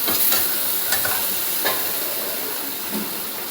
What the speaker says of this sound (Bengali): এবার নাড়াচাড়া করে এটাও কষিয়ে নিচ্ছি।